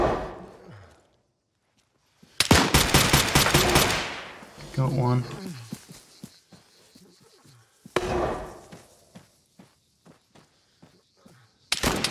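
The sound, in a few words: gunfire in video game Arma 3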